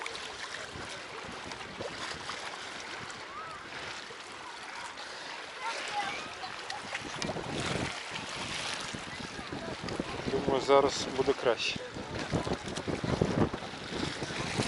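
Wind buffets the microphone in gusts over lapping Black Sea water on a pier in Odesa in the evening, with someone speaking briefly partway through.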